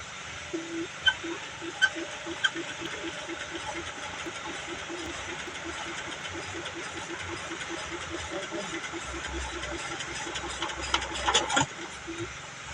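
Small motor-driven irrigation water pump idling by a river, a steady rapid mechanical chugging throbbing on continuously at moderate distance, with a brief louder clatter near the end.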